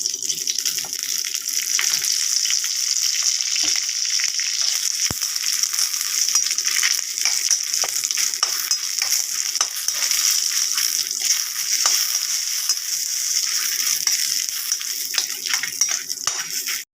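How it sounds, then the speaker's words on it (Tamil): Dried Kashmiri red chillies fry in a small amount of oil, giving a steady, close sizzling hiss with scattered crackles and light clicks of stirring, continuous throughout without any voices. "கொஞ்சமாக எண்ணெய் ஊற்றி மிளகா கருகாமல் சிவப்பு இருக்கும்"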